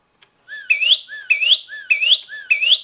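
A pet baby bird chirps in repeated rising whistled calls, about four bursts in a steady rhythm, close and fairly loud with no talk over it.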